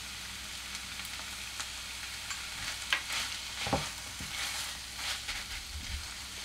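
Grated paneer tossed with a little turmeric fries in a pan, giving a steady soft sizzle with scraping stir strokes and a few louder clinks, close and alone.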